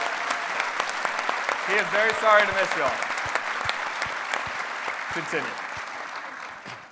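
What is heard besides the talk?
audience applause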